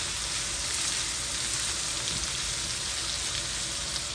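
Fish and vegetables sizzle steadily as they stir-fry in a pan for a sweet and sour fish dish, a continuous dense hiss with no pauses and no talking.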